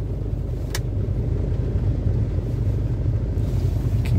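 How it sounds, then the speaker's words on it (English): A 2002–2007 Jeep Liberty KJ engine idles after being restarted, giving a steady low rumble close to the microphone with light wind noise and a couple of faint clicks. "started the vehicle back up."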